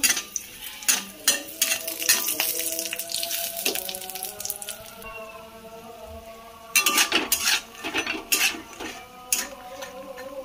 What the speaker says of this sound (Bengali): বড়িগুলো আমি লাল লাল করে একটু ভেজে নেব।